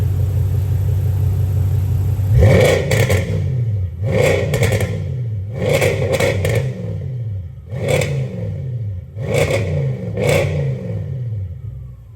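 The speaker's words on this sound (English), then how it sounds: "the turbo spool down sounds really good" Audi S7 fitted with upgraded RS7 turbos, revved repeatedly in sharp bursts, each rise falling away into audible turbo spool-down with a few small exhaust pops, loud and close.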